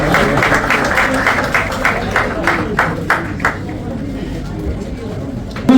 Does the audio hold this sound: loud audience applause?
yes